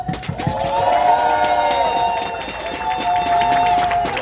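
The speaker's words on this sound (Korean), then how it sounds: "힘찬 박수로 맞이해 주십시오." Audience applause at a joint campaign rally for National Assembly candidates in Incheon Seo-gu, welcoming a candidate to the stage; steady, moderately loud clapping from the crowd with a tonal music-like layer running underneath.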